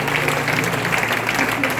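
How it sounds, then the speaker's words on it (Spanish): Church conference congregation applauding, a dense steady wash of clapping throughout the short moment with voices mixed in. "papá, te damos este aplauso, Señor"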